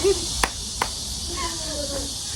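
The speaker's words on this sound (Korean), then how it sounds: "목소리보다 매미 소리가 더 큰 건 뭐지?" Cicadas drone in a steady, loud high-pitched wash throughout at Ttukseom Han River park on a summer afternoon, with a couple of sharp clicks and faint background sounds under it.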